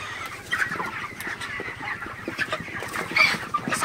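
Broiler chickens cluck softly and steadily on a farm, a low murmuring flock with scattered sharper calls rising here and there.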